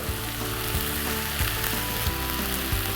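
Rice and noodles with chili paste stir-frying in a pan for street-style veg Szechwan fried rice, a dense continuous sizzle with rhythmic spatula scrapes about every half second, no talk.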